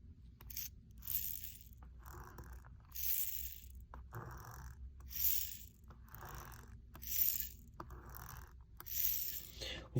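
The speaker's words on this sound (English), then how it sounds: "Oh, the motor is working." A small motor inside an 80s McDonald's Turbomacs toy whirs and rattles in short repeated bursts about once a second, faint and close, with light clicking between spins.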